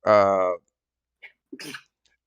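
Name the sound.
sneeze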